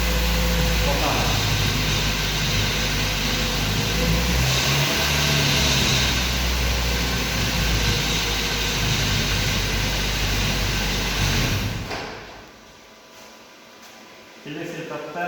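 A petrol car engine fitted with a CAN-based multiplex engine management system runs steadily at a close, loud idle for about twelve seconds, then drops away sharply to quiet near the end.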